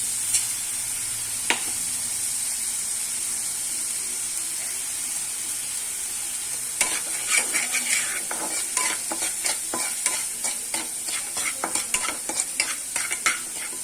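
Spice paste of green chilli and tomato with salt, turmeric, chilli powder and a little sugar frying in a pan, a steady hiss with sharp crackles and spatters growing busier in the second half; no talk.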